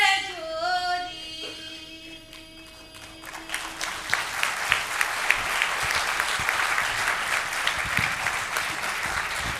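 Audience applause swells after a Hindi folk song at a literature and culture event, starting as the last sung note fades and building into sustained, dense clapping with sharp individual claps standing out throughout.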